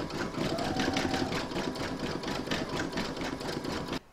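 An embroidery machine stitches white thread for the eyes of an in-the-hoop Shih Tzu or Lhasa Apso pouch. It makes a close, steady, rapid mechanical whirring and ticking that runs continuously for about four seconds, then cuts off.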